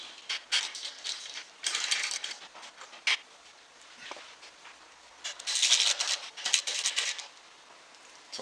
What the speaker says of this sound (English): you tighten them down, and then throw your torque on them